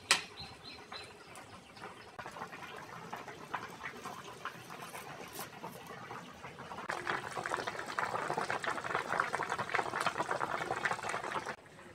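Potatoes and young jackfruit boil together in a pot, a steady bubbling and hissing that grows fuller and louder after several seconds, with no voices.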